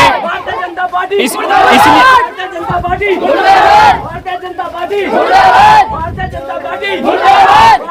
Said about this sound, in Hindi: देख रहे हैं आप सरकार के मुर्दाबाद के नारे ये लोग लगा रहे हैं यहाँ पे